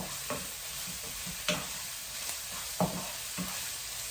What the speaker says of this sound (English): I like to do the onions on a fairly high heat to get them going.